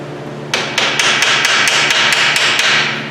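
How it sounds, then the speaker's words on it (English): A small hammer strikes a stuck bolt on a Mazda Miata MX-5 about ten times in a quick, even rhythm, sharp and close, with no talking. "let me get a little hammer"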